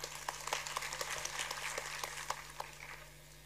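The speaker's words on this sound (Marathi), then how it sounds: "एकदा जोरदार टाळ्या झाल्या पाहिजे" An audience applauding at a state-level Labour Day award ceremony, heard as faint, scattered clapping from a hall over a steady low electrical hum, fading slightly toward the end.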